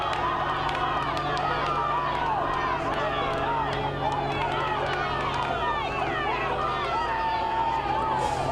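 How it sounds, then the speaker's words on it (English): Crowd at a youth American football showcase game roars and cheers continuously near the end of the game, a dense, loud wash of many voices with shouts rising throughout. "The crowd is getting pumped up."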